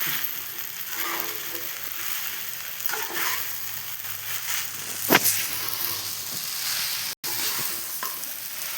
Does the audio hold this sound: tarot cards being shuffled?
no